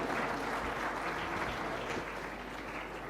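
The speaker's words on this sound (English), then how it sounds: "Please give a loud round of applause" An audience gives a loud, sustained round of applause to a conference panel at a deep tech innovation conclave in Visakhapatnam, dense steady clapping that carries on evenly throughout.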